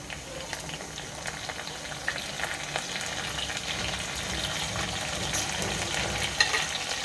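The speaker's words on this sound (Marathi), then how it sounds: "आता मी ह्याच्यामध्ये कोथिंबीर आणि कढीपत्ता टाकत आहे फोडणीला" Coriander and curry leaves sizzle in hot tempering oil over browned onion for a prawn curry, a steady dense crackle and hiss that runs without a break at close range, with no voices.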